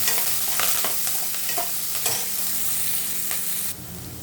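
Onion, mustard seeds and curry leaves fry in hot oil for an eggplant and potato palya, making a bright close sizzle broken by repeated spatula scrapes and taps before the hiss abruptly drops away.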